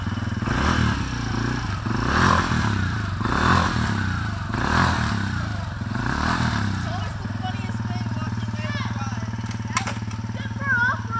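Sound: kids' Christmas toy scooter driving

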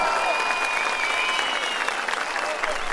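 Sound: applause

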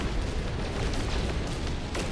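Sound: cannon fire in video game

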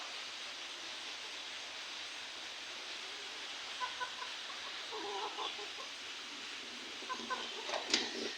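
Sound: hens clucking

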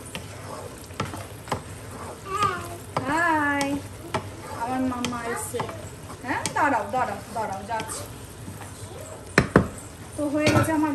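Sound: soybean curry cooking in pan as garam masala is added

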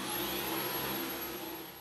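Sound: Dyson V11 Absolute Extra cordless vacuum cleaner running

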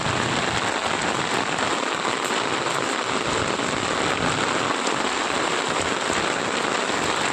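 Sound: heavy rain falling

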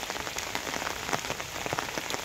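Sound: rain falling on a mango tree in a village

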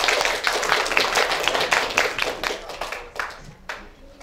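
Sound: audience applause for the debate teams

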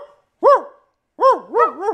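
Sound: person imitating a dog barking at a dog

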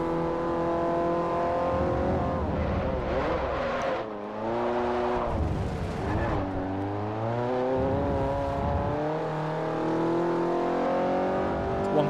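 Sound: rally car engine driving in Forza Motorsport 4 video game

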